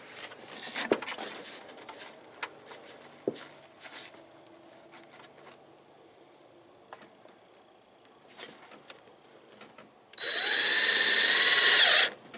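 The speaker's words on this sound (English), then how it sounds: "Just give me that drill." A power drill drives screws into a mobile home roof in one loud, steady two-second whir near the end, after quiet moments of faint tapping and handling noises.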